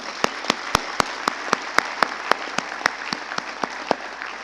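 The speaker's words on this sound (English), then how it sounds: "give yourselves a round of applause because you more than deserve it." A graduation day audience at a medical college gives sustained applause, a dense wash of many hands clapping with regular sharper claps standing out, close and fairly steady.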